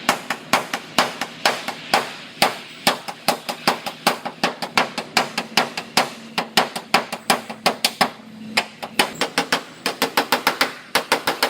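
Rapid metal hammer blows straightening the bent-in edge of a Toyota car hood, steady sharp strikes repeating close and loud with brief uneven pauses.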